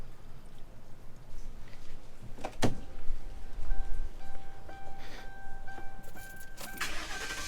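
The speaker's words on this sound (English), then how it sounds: "then go start the engine" A 2011 Ford Crown Victoria, with a garden hose running into its cooling system, cranks and fires up, followed by a steady idle with a faint whine. A sharp click comes partway through and water noise sits underneath.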